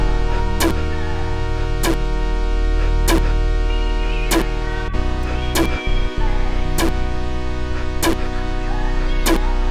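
A steady drum loop with sharp snare hits landing on the backbeat, regularly spaced over a sustained bed of bass and tones.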